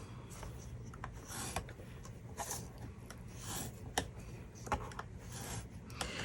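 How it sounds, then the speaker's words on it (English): Paper is scored with a tool at half-inch intervals for a fan easel card, a quiet steady scratching and rubbing with faint repeated strokes and small clicks. "So just kind of get it straight and essentially score every 1/2 inch."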